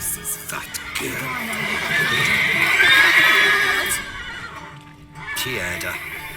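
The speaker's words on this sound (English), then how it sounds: "Gotta calm all the horses before they wake the guards." Horses whinny in The Witcher 3 game, a drawn-out neigh swelling at the center over a busy stable bed with faint hoof knocks, fairly close and loud, with game voices speaking around it.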